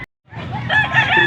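Young stag rooster crowing once, close and loud, a rough call that starts abruptly after a brief silence and holds steady to the end.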